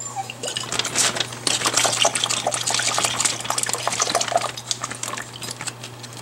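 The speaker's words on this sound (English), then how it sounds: "I'm going to put some Worcestershire sauce in here." Worcestershire sauce pours into a bag of rib-eye steak marinade with a steady liquid gurgle, close and fairly loud, over a low constant hum.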